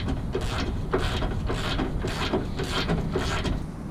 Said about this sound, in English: I'm gonna ratchet it out the rest of the way with my 1/2 inch drive ratchet